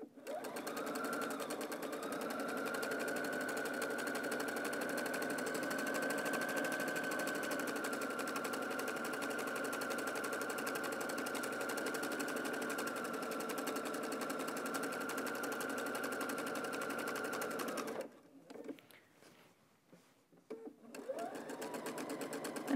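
A sewing machine hums in one long steady run while stitching a Christmas stocking, close and even, then stops and gives a few short stuttering bursts at the end.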